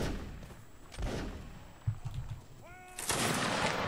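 Gunfire in a line battle video game: a few muffled musket shots and thuds build to a loud crackling volley at the end, with faint voices in the background.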